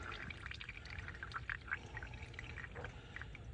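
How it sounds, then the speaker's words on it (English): Fuel drains from the settlement bowl of a Powerstroke diesel fuel filter as a steady, faint trickling pour that continues without a break, nearby and with no talking. "You open that up and it drains that settlement bowl out"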